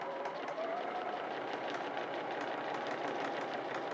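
A sewing machine runs steadily while quilting straight lines through a patchwork block, giving a continuous, even mechanical whir that holds close and constant throughout with no pauses.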